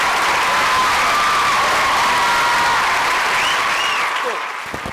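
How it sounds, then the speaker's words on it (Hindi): A studio audience on a live Pakistani kids' game show claps for a young contestant named Sara, with loud, dense applause and a little cheering that tapers off in the final moment. "सारा के लिए बहुत सारी तालियां।"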